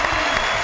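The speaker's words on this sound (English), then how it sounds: "let's give him a round of applause for that" Audience applause fills the room in a brief, dense burst of clapping from a crowd, steady and fairly loud throughout.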